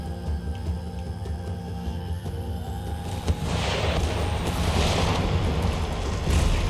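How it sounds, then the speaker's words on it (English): Battle explosions from the strategy game Empire roll out as a dense, continuous rumble. The blasts swell louder about halfway through and stay thick, booming and fairly distant to the end, with no talking. "let's watch these explosions though"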